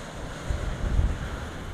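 Strong gusting wind with sea surge along the storm-hit coast of Cienfuegos, Cuba: a steady low roar of wind buffeting the microphone and surf, swelling briefly near the middle, with no voices.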